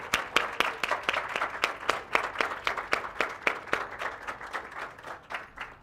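An audience at a university cultural and equity center dedication ceremony claps in a steady rhythm, moderately loud and close, the applause tapering slightly toward the end with no speech over it.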